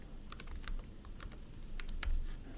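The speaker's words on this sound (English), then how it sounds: "Just go ahead and type in your username and your password" Quick, light keystrokes on a computer keyboard as a username and password are typed in, an irregular close clicking at low volume with no talk.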